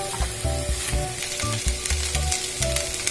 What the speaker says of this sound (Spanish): mientras se está dorando nuestra chuleta